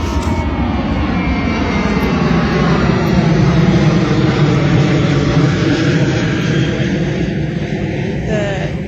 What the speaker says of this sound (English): I'm right by the airport, so the planes are going to fly over.